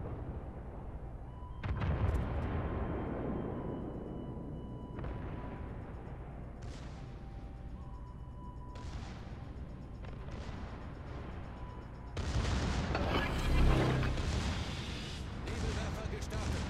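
Naval gunfire from a Pan-Asian destroyer in World of Warships, a series of booming cannon blasts spaced several seconds apart, ending in a heavier volley, with someone speaking throughout.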